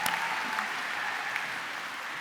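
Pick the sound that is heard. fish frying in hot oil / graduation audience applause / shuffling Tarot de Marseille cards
graduation audience applause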